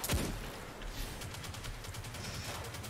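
Rapid gunfire from the Destiny video game, a sharp opening crack followed by a steady stream of faint, evenly spaced shots at moderate distance.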